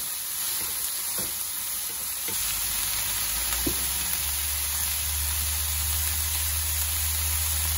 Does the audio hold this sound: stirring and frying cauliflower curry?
yes